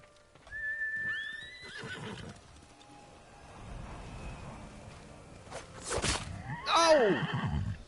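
Horse neighing in the video game Ghost of Tsushima: two clear whinnies, one near the start and a louder one near the end, with soft hoof and movement sounds in between.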